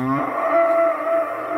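Bulls on a cattle farm in Ben Tre, Vietnam, low over one sustained, close, loud moo lasting the whole moment, with no talk over it.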